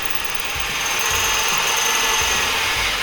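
A power tool grinds steadily through a hole in a metal cart frame, a loud, continuous rasping whir with faint rhythmic low pulses underneath and no pauses.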